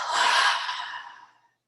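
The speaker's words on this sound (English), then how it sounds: "Exhale out of the mouth and drop." A single long exhale out of the mouth during a yoga class, a breathy sigh, close and soft, that starts full and tapers away to silence over about a second and a half.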